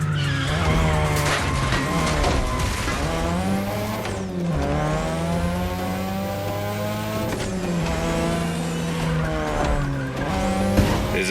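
A 2002 third-generation Mazda RX-7 with a rotary engine races in a video game, its high-pitched engine repeatedly revving up and shifting with loud tire squeals, close and steady throughout without talk.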